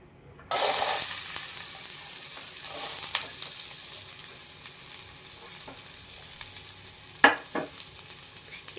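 Onion, green chili, coriander and ginger fry in a pan for onion samosa filling: a sudden loud sizzle that settles into a steady crackle, with a few sharp stirring clinks near the end.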